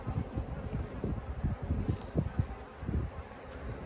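Honeybees buzzing steadily up close during a hive inspection, a continuous low drone with small swells and flutters, heard alone without talk.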